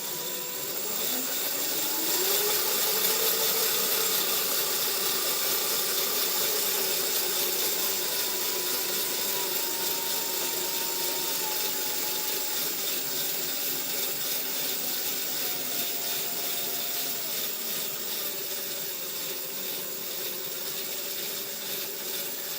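Alternator-powered mid drive bike running under throttle, a loud steady mechanical whine and ratcheting drone that rises in pitch early on, then holds with slowly drifting tones, close and continuous.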